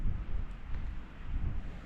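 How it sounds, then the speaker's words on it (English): Strong wind buffets the microphone on a remote hilltop along the Southern Uplands Way, a loud, continuous low rumble with no voices. "Too windy today,"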